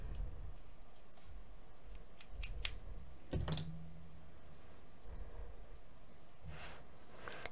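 Scissors snip off excess crochet yarn while a vintage-camera-style crochet purse is finished, giving a few short, close cutting clicks over quiet room tone.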